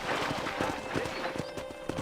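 Steady clip-clop of horse hooves at a trotting rhythm with a horse whinnying, over a continuous background bed of ambience from the video game Red Dead Redemption.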